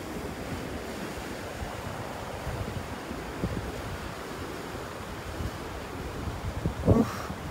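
Steady wind and surf rush on a beach in North Naples, Florida, a broad continuous roar with gusts of wind buffeting the microphone and a brief louder burst near the end.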